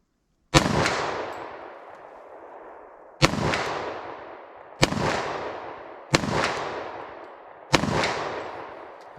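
Five sharp, loud .357 SIG pistol shots ring out at irregular intervals, each followed by a metallic ringing decay off a steel target.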